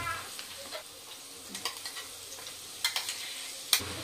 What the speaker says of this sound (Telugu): ఇప్పుడు ఈ అల్లం వెల్లుల్లి పేస్ట్ బాగా ఫ్రై అవ్వాలి, పచ్చివాసన పోయే వరకు